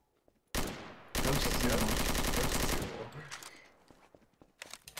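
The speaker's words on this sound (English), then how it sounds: "Oh no, Nitz is shooting at me" Rapid automatic gunfire in Garry's Mod Trouble in Terrorist Town, a short burst followed by a long sustained volley, loud and close, fading into scattered shots and footsteps.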